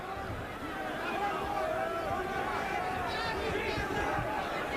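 Loud crowd of about 8,000 to 9,000 at the Omni in Atlanta during a boxing match: a dense, continuous roar of voices and hubbub filling the arena, with a few louder swells and a voice over it.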